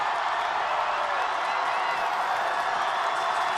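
At a high school football semi-final between Highland and Eagle, the crowd reacts to a field goal kick with a loud, sustained roar of cheering and clapping throughout, with voices mixed into the din.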